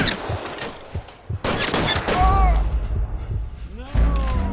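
Gunfire in the game L.A. Noire Remastered: several loud, sharp shots with heavy thuds, clustered near the start and again later, layered with game sound effects and voices.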